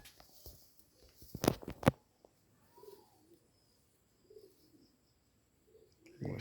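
Pigeons in a loft give soft, low coos in short separate bursts, with a couple of sharp flapping or knocking sounds early on and quiet gaps between calls.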